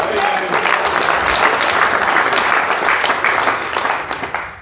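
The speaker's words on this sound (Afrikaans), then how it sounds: "Klap het dan." Congregation applause during a church service, sustained and dense clapping at full strength that tapers slightly at the end.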